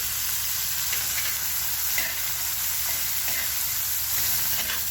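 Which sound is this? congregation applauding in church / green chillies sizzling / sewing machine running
green chillies sizzling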